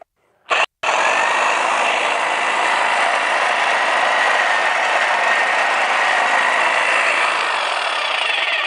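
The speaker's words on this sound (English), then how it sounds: "we'll just get this initial cut going and see how it feels" A Greenworks 22-inch hedge trimmer runs at a steady, loud, buzzing whine while cutting a hedge, starting after a brief blip and holding continuously to the end with no talk.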